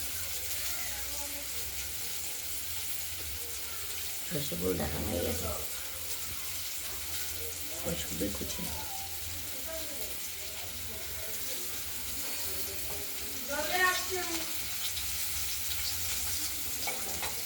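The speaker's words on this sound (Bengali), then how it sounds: "আলুটা আমরা ভাজা করে নিচ্ছি প্রথমে।" Potatoes frying in oil with turmeric, a steady sizzle under a voice as she talks, with occasional louder stirring scrapes.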